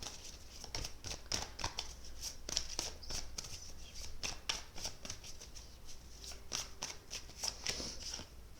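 Oracle cards being shuffled for a reading produce a rapid series of crisp, close riffling and slapping bursts, repeating steadily throughout at a quiet level with no talking.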